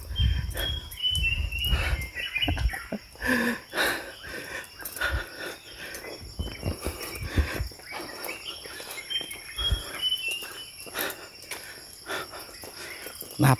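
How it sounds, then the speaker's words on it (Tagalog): Birds chirp and trill in a quiet mountain setting, small high calls scattered throughout alongside insect-like buzzing and occasional soft rustles nearby. "Mga ibon."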